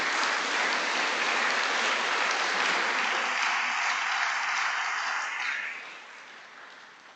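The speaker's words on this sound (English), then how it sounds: "So please can we have a round of applause for leader of the council, Councillor Neil Emmett." Sustained crowd applause fills a town hall during a community diversity awards evening, loud and steady before tapering off toward the end.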